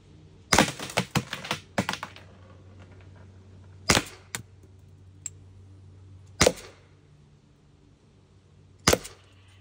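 T4E pistol fired at a target in a quick string of sharp snapping shots followed by three spaced single shots, close and crisp against a quiet background.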